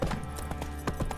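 Horse hooves clip-clopping in The Witcher 3: Wild Hunt, a quick rhythmic run of hoof beats over about a second, steady and fairly close within game ambience.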